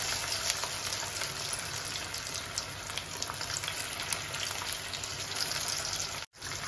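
Chicken 65 pieces fry in hot oil in a kadai with a dense, continuous bubbling sizzle that stays steady throughout and cuts out briefly near the end, with no voices.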